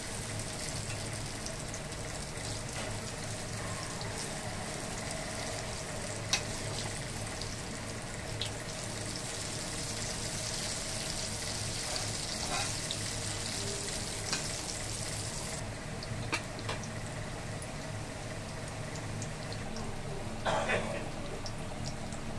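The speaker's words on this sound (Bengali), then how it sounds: "বাকিগুলো এরকম ভেজে নেব।" Batter-dipped pointed gourd (potol) pieces in gram flour coating fry on low gas heat, a continuous near crackling sizzle with a few soft clinks of a spatula.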